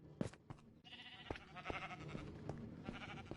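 Minecraft sheep bleating several times in short bursts amid game sounds, with a dispenser firing shears nearby; the bleats are fairly clear against a busy background.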